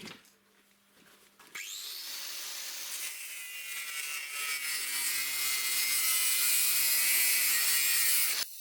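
An angle grinder whines up and cuts a bicycle handlebar tube with a harsh, steady grinding screech that grows louder and holds for several seconds.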